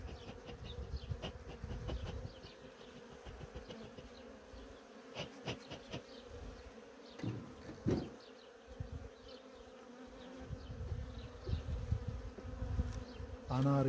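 Carniolan honey bees buzz densely and continuously around a split hive during queen introduction, a steady close insect drone with brief louder passes.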